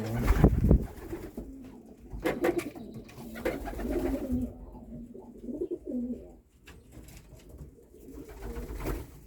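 Racing pigeons cooing in a loft, soft repeated coos with a few rustling sounds and louder bumps close by, and no voices.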